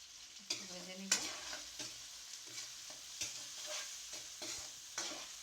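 Garlic frying in oil in a pan for a dried-fish vegetable curry, stirred with repeated scraping strokes over a continuous close sizzle, no voices.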